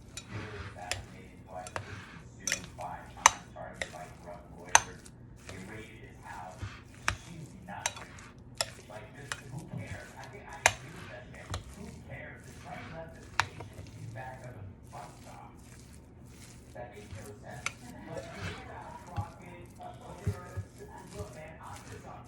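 Steak marinade with French dressing being mixed in a bowl makes soft wet squelching and stirring sounds with occasional utensil clicks against the container, fairly quiet and continuing for a long while, with a person speaking over parts of it.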